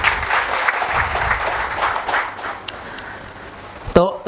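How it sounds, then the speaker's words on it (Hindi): An audience at an indoor health product demonstration claps in a dense, sustained round of applause that slowly thins out and fades toward the end. "तो इसके लिए एक जोरदार ताली हो जाए आप लोगों के लिए"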